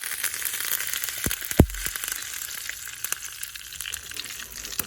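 Curry leaves, cumin and red chillies frying in a hot pan, a steady hiss and crackle with a sharp pop as the leaves hit the oil, close and alone.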